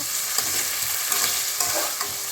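Garlic stir-fries with a splash of water for a fish curry, a dense close sizzle with quick scraping strokes of a spatula repeating every half second or so, no voices.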